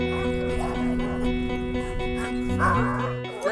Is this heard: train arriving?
no